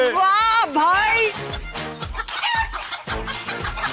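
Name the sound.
chickens clucking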